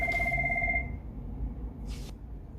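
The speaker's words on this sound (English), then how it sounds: "my phone rang" A telephone rings with a steady electronic two-tone ring that stops after about a second, followed by a brief burst of noise shortly after. The sound is close and clear with no talking.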